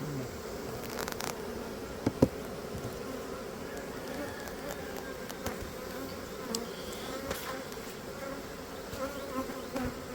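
Honeybees swarm around an open hive during an inspection, a steady close buzzing drone with occasional louder passes and a few small knocks, no speech audible.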